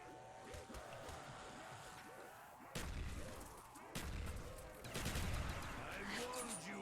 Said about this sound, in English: What I love about explosions is the explosion power.